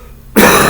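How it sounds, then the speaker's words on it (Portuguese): A single sharp cough from someone with an itchy throat bursts out loudly and close after a moment of near silence. "Estão vendo a tosse?"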